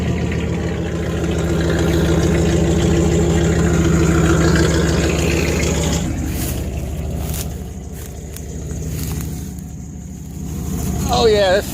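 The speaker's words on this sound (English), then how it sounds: "Moving the truck." A truck engine runs steadily at a low, idling rumble while the vehicle is moved at a parts car project, loud and close throughout, with someone talking over it.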